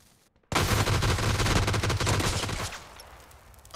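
Sustained automatic gunfire in PUBG: Battlegrounds, a loud dense burst of rapid shots starting abruptly and rattling on for about two seconds before tapering into a quieter tail.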